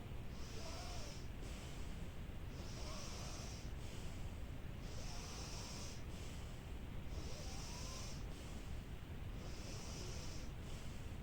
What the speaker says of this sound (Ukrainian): Закрили пальчиком одну ніздру, дихаємо однією ніздраю.